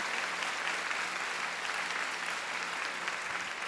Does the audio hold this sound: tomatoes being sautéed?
no